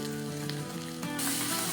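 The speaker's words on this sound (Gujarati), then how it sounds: "આપ જોઈ શકો છો વઘાર કેટલો ફાઇન થયો છે" A tempering of ginger, garlic and chili with turmeric and salt sizzles loudly in a pan, a dense, steady frying hiss that brightens and intensifies toward the end, with no speech.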